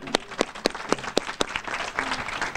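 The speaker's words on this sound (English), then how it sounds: "Nice round of applause." Scattered applause from a school audience during a WITN community event at Freire Charter in Wilmington, with a few sharp individual claps standing out over a thin, steady patter that lasts a couple of seconds.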